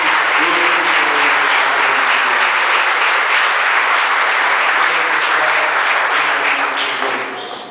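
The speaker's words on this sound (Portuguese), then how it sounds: "Dá uma linda salva de palmas" A church congregation gives sustained, loud applause, a thick steady roar of many hands clapping that holds evenly for several seconds before starting to taper at the end.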